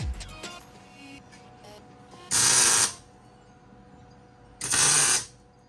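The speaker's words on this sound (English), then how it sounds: "We'll just tack weld that dude right there." Two short tack welds on sheet metal, each a harsh, loud crackling burst of about half a second, spaced a couple of seconds apart over a quiet background hum.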